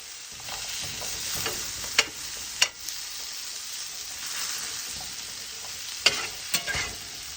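Sweet potato pieces frying in butter in a pan give a steady, soft sizzle with occasional crisp pops and stirring clicks, fairly close and without talk.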